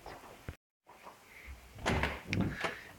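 A door opens and closes nearby with a short knock, then a fuller burst of rattling and bumping as it is pushed through and swings shut, in an indoor setting.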